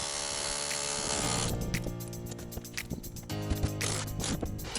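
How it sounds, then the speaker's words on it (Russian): Rough mechanical grinding and rattling from a rotary hammer knocking off expanded clay concrete blocks, with irregular knocks and clatters of material breaking, continuous and fairly close. "Перфоратором аккуратно сбил блоки."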